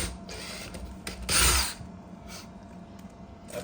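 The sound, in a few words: power drill drilling a hole in the wall for an anchor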